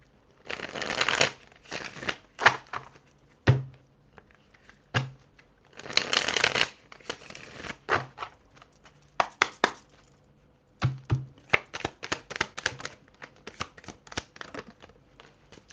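Tarot cards are shuffled and drawn in repeated rustling bursts, with quick riffles and crisp snaps of single cards between quieter pauses. The sound is close and nobody speaks.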